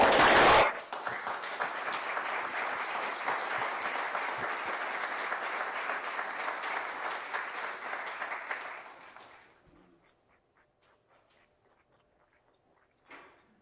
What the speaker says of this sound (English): join me in a rousing ovation for everything that you've done